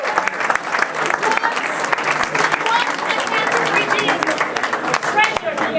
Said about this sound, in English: Another round of applause for Jimmy Tingle.